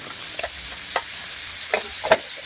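Garlic and mixed vegetables stir-fry in a hot pan, with a steady sizzle broken by a few scraping stirs of a utensil.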